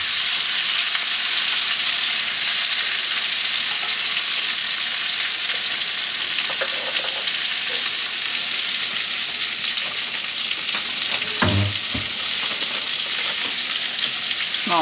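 Breakfast food, with onion and garlic nearby, fries in a pan in a small kitchen, a steady loud sizzle and crackle running throughout, with a few brief clunks near the end and no voices.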